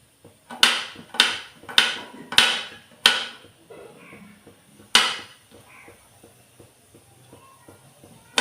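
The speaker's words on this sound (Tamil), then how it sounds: "பூண்டு சாப் பண்ணி எடுத்துக்கிட்டேன்" A knife chopping garlic on a chopping board: five sharp, evenly spaced knocks, then a pause, one more hard strike and several softer light taps trailing off.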